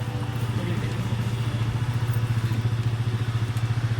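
A motorcycle ridden through Sofia, Bulgaria on a cool morning gives a close, steady low engine drone with a regular throbbing pulse and faint clatter, with no talk over it.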